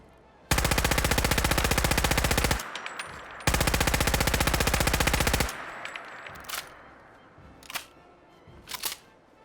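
A World War 2 submachine gun mod in Fallout 4 fires two long, rapid full-auto bursts of about two seconds each, loud and close, followed by reload clicks and clacks.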